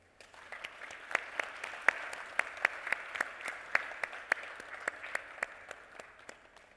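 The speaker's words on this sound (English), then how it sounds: "Your Excellency, can we have a round of applause," A room applauds the President of Ghana at a business forum, steady clapping of a moderate crowd with distinct individual claps standing out, sustained throughout at medium distance.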